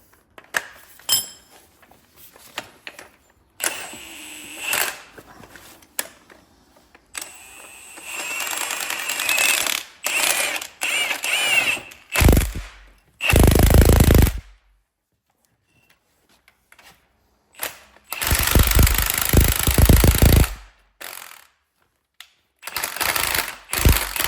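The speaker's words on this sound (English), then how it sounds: "we're gonna use an impact with a 19mm, and we're also gonna use our wrench right there" Bursts from an impact wrench fitted with a 19mm socket work on a car strut during a BMW X shock absorber and strut mount replacement. Several loud rattling bursts stand apart from quieter clinks and handling noise, with long silent gaps between them.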